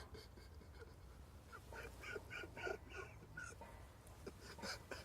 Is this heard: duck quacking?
yes